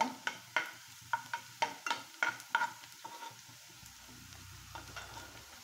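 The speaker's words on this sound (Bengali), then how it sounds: "যতক্ষণ একটা ভালো ফ্লেভার বের হয়ে আসবে ততক্ষণ আমি এটাকে ভেজে নেব" Cumin seeds frying in hot oil for a pointed gourd dish, giving a steady close sizzle broken by a run of sharp spatula scrapes and taps against the pan that thin out toward the end.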